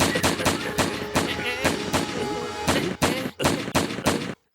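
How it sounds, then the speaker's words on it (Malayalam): Cartoon gunshots from a Motu Patlu animated episode fire as a rapid series of about a dozen sharp, loud cracks in uneven rhythm, ending in a sudden stop. "I am ready to shoot."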